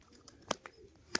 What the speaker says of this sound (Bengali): দেখুন বাজি করে পিক আপ দিয়ে উঠে গেল পায়রা